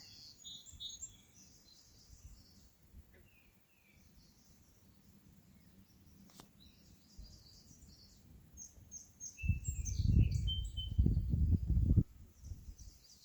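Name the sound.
small bird chirping in a tree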